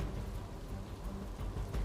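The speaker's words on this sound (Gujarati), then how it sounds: "નવસારીમાં એક તરફ ધોધમાર વરસાદ છે" Heavy monsoon rain pours down in Navsari, Gujarat, making a continuous dense broadband wash of falling water with low rumbling underneath, steady and fairly loud, with no voices.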